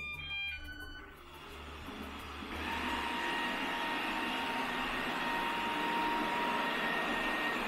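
An Ecovacs Deebot N79S robot vacuum works across carpet, its steady whirring motor hum and brush noise rising after a short quieter start and holding loud and even to the end.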